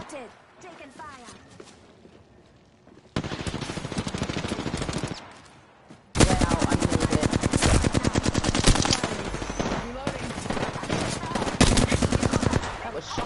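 Rapid automatic gunfire in an Apex Legends firefight, loud bursts from about three seconds in, then sustained heavy firing through the latter half with a brief pause between.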